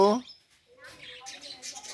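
A pet parrot gives a short, loud harmonic squawk at the start, then faint chattering calls trail off in a quiet room.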